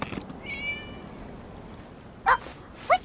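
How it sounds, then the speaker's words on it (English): A video-game cat gives a short tonal meow followed by two sharp, louder meows near the end, set against quiet ambient background with no talk. "It was just a cat."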